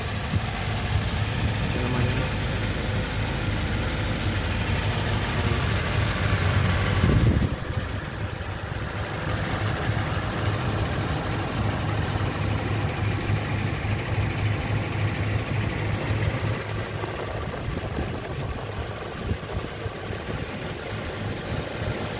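A Toyota Kijang Innova family car's engine idling, with a steady, even mid-low hum throughout, close and fairly quiet, while someone talks over it.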